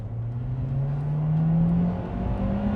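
A Honda Civic Type R (EP3) engine drones steadily and climbs in pitch as it revs past about 6,000 rpm into VTEC, a continuous near whir with no voices.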